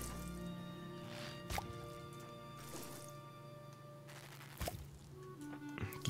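Watering crops in the farming game Fae Farm: several soft wet drip-and-splash effects land one after another over a steady game music bed.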